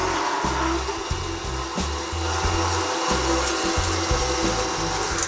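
Venison being minced in a meat mincer: a steady low motor drone carrying a rhythmic grinding churn throughout, close and loud, with no talking.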